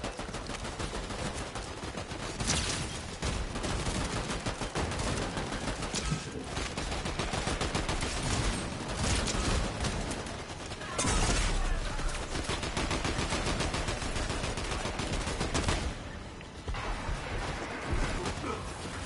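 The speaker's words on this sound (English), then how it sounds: "I love the shotgun." Shotgun fire in the video game Fortnite, repeated bursts of gunfire at an uneven rhythm over busy game sound, with occasional quiet talk.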